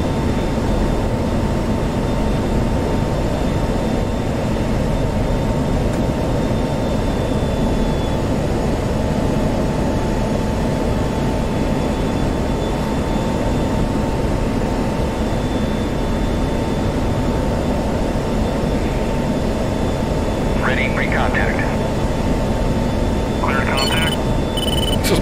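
F-16 jet engine during air-to-air refueling in DCS World, a loud, constant broadband roar that holds steady throughout with only a faint high whine above it and a few brief chirps near the end.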